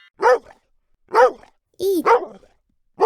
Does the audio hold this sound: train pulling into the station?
no